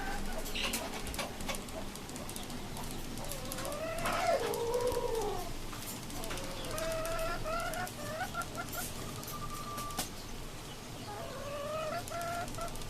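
Hens in a cage on a rooftop poultry farm cluck and call, with a few drawn-out squawks and rapid clucking bursts over quiet background chatter of other birds.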